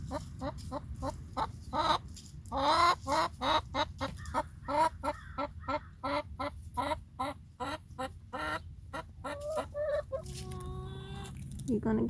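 Chickens in a backyard coop, a rooster among the hens, keep up a fast run of rhythmic, close-up clucking for about twelve seconds, with a drawn-out call near the end.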